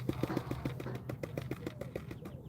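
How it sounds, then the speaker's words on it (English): Chickens pecking at a metal water dish outdoors, a quick run of light rhythmic metallic taps at a close distance, fairly quiet, with faint bird sounds in the background and no talking. "The chickens are pecking a metal water dish."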